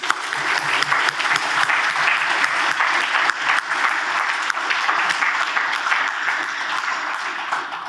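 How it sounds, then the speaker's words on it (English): A conference audience at closing remarks gives a full round of applause, a dense wash of many hands clapping at an even, sustained volume throughout. "I'd like to end with a round of applause for Elcrig."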